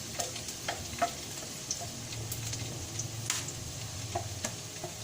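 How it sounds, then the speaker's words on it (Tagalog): Garlic sautéing in a hot frying pan, a steady close sizzle with small pops and intermittent spatula clicks and scrapes, fairly quiet and without talking. "Pag ako nagigisa ng bawang, gusto ko lalo mabango yung bawang."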